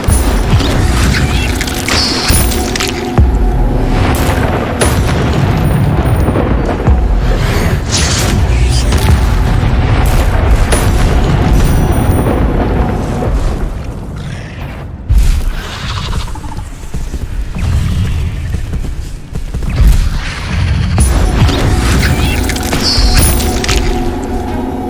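In the Hogwarts Legacy video game, the Incendio fire spell is cast again and again in combat. Loud, dense booming blasts and crashes follow one another almost without a break, with a short lull partway through.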